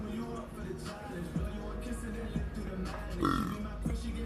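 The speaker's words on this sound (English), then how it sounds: "He burped." A low, rumbling burp comes through amid ongoing conversation, with a brief guttural eruption standing out over the chatter.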